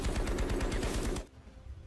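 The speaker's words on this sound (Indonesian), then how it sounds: "Namun tiba-tiba beberapa tembakan muncul dari dalam kamar." Rapid AKM rifle fire bursts from inside a room in an action film scene, a dense string of sharp shots for over a second before cutting off abruptly into quiet.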